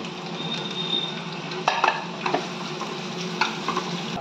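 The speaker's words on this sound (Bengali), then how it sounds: "এবার সাদা তেল দেবো কড়ায়, পেঁয়াজগুলো আমি ভেজে নেবো" Sliced onions fry in hot white oil in a wok, giving a steady close sizzle with a few stirring scrapes and clinks of a spatula against the pan, no talking.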